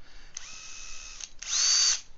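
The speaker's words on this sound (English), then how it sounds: "So I actually put the file into a power drill." A power drill spins a round file for sharpening a chainsaw blade, with two short high whining bursts separated by a brief pause, the second louder and close by.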